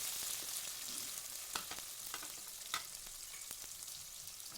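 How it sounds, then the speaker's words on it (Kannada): Onions fry in a pan for vermicelli upma with a faint, even hiss of oil and a few soft stirring scrapes scattered through the quiet sizzle. "ಈರುಳ್ಳಿ ಹಾಕ್ಕೊಂಡು ಒಂದು ಸಲ ಫ್ರೈ ಮಾಡ್ಕೊರಿ"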